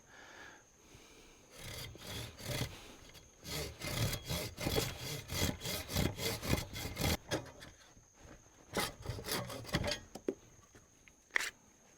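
Hand sawing through a sourwood branch outdoors for a bushcraft hammer: close, rhythmic back-and-forth strokes in uneven bursts with brief pauses between them, fairly quiet and with no talk over it.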